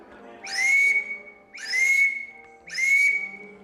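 Three evenly spaced whistles mimicking a pintail duck call in Louisiana, each a breathy rising note that holds steady, loud and close with brief pauses between and no speech.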